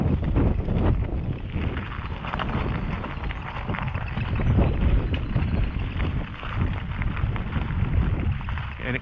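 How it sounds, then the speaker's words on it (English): Strong wind buffeting a microphone on a rocky trail cut while hiking, a steady loud rumbling roar with gusty surges that continues throughout with no voices. "Oh, that wind is nasty when it blows."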